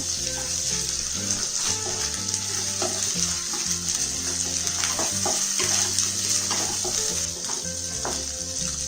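Ginger garlic paste sizzles with onions in a hot pan, steady and close, with faint scraping and stirring clicks over a constant hiss.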